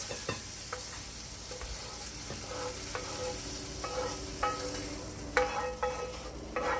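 Scallops sear in a hot pan with a steady, dense sizzle and hiss throughout, broken by a few sharp clinks and scrapes of a utensil toward the end, heard up close with no one talking.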